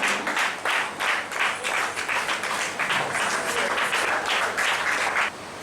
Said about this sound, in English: Can we have a huge round of applause as we join this wonderful celebration